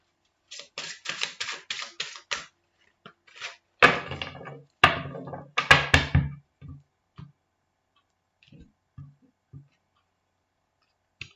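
A deck of cards is cut and shuffled by hand in a quick series of crisp riffling clicks, then a few louder slaps and flutters, followed by scattered soft taps as the cards settle, close and with no talk.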